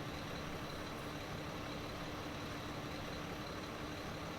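A freight truck drives along in the video game Foxhole, its engine a constant, dense rumble mixed with broadband road noise and no breaks.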